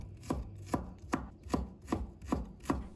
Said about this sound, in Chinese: 再切成丝。